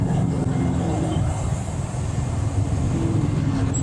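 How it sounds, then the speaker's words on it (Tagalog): Continuous road traffic on a city flyover, cars and buses making a dense, steady rumble close by with no clear gaps. "Traffic ah."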